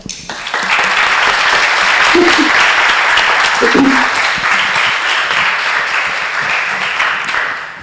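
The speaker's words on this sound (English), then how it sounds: "We will give you a small applause at the end." A lecture audience at an architecture talk gives sustained applause, dense and close, starting quickly, holding steady for several seconds and fading slightly at the end, with a few brief voices under it.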